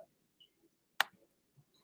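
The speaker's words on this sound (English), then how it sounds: "Try clicking the green dot." A single sharp computer mouse click stands out clearly in a quiet room, with a few faint small ticks and handling noises before and after.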